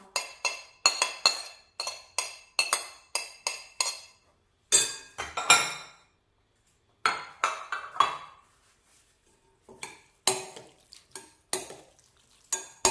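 Utensils clink and scrape against a bowl in irregular bursts while a pork skin salad with shallots, fresh chilies and herbs is tossed, with short quiet pauses between rounds.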